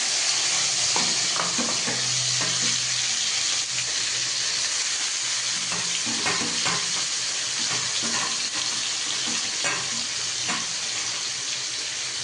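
Onion, chilli, garlic and ginger sizzle in hot oil with tempering spices, a dense steady frying hiss with intermittent stirring clicks and scrapes throughout, close and loud with no talk.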